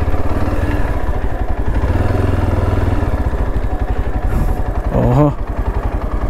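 Heavy motorcycle engine running steadily with a low, rumbling drone throughout, close and loud, with a brief rising whine near the end; a voice talks over it at times.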